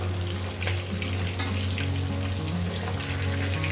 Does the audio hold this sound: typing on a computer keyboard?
no